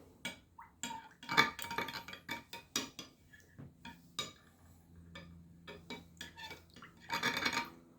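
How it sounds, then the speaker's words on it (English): A glass or container of acid solution being stirred while preparing a mosasaur fossil nodule, giving repeated light clinks and scraping taps in quick irregular bursts, close and fairly quiet. "stir a little bit, and then wait for it to"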